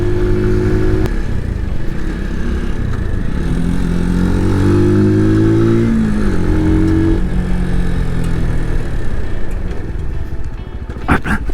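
Brixton Rayburn 125 motorcycle riding, steady loud engine drone close up throughout with shifting pitch as it revs and changes speed, a brief clatter near the end.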